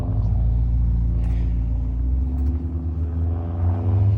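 2021 Dodge Durango Hellcat idling and creeping while being parked, a deep, loud, continuous engine rumble with a slight swell of revs near the end, close and alone without talk.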